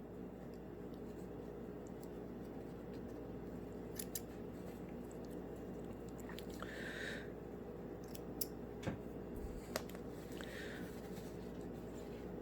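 Scissors trimming loose thread ends, a few faint, sparse snips over a steady low background hum, with no talking.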